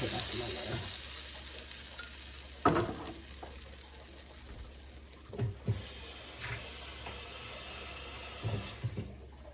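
Kitchen clatter and a running-water wash over steady background noise, with a few sharp knocks from pots or utensils; the sizzle of a blended paste frying in a hot pan is soft and indistinct.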